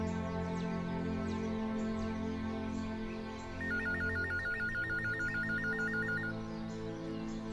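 An electronic phone ringtone trills in a rapid, steady pulsing pattern for a few seconds over a low, constant background hum.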